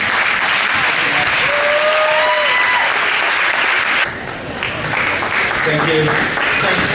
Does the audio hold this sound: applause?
yes